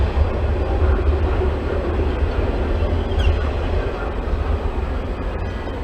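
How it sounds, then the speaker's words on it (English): A CN freight train rolls past in winter weather, a steady, loud low rumble and broadband roar that holds without a break from start to finish. "this weather doesn't bother CN. They still keep the trains going."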